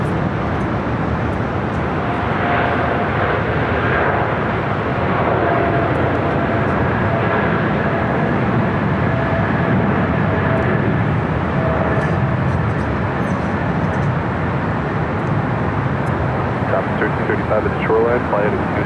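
A jet airliner rolls down runway 25 left on the south side of Los Angeles International Airport, a steady broad roar of engine and rolling noise that holds at an even, loud level throughout.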